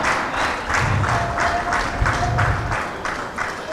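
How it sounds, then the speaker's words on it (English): Audience applause at an indoor cricket opening ceremony, steady broadband clapping filling the whole stretch, with rhythmic surges and faint background voices mixed in. "A round of applause for everyone, the captains, the sponsors, the organizers"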